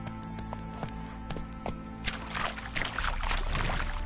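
Roach the horse gallops in The Witcher 2, with rhythmic hoofbeats clopping at a moderate distance over a background wash that thickens toward the end.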